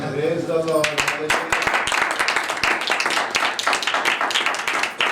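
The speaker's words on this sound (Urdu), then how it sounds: "تالیاں۔" An audience claps during a Christian sermon at a preaching service, a brief voice at the start giving way to dense, rapid, fairly loud applause that keeps going steadily to the end.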